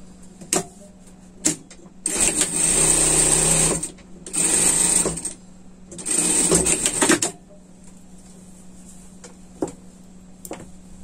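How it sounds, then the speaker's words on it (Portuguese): A sewing machine stitching a pet sling bag runs in three loud, close bursts of steady whirring, separated by short pauses filled with light clicks and handling noises, with no talking. "E vamos costurar, passar uma costura até aqui"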